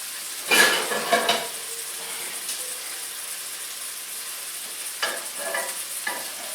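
Prosciutto-wrapped shrimp sizzle steadily in a pan, with a couple of sharp bursts of hissing and clinks of a utensil against the pan near the start and again toward the end.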